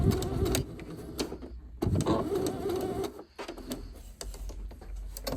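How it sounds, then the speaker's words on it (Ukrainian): A sewing machine back-tacks at the end of a hidden zipper seam, stitching up to the pull. The motor whirrs in steady bursts with a brief pause near the middle, close and clear, with no talking. "Роблю закріпку."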